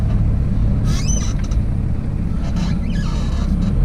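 A turbocharged 2H diesel in a Toyota Landcruiser HJ60 with a free-flowing exhaust and an intercooler runs loud and steady on a dyno, giving a deep, continuous rumble with faint whistling sweeps above it.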